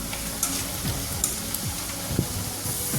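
Ginger sizzles in hot oil while being fried for Kerala inji curry, a continuous crisp crackle broken by regular spatula stirs and scrapes, close and even.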